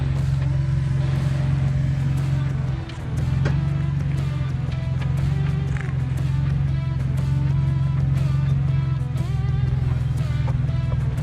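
A Jeep drives along a trail, flexing its suspension with the sway bar connected. A steady, loud low engine drone runs throughout, briefly dipping near three seconds, with faint clanks and creaks from the chassis over it.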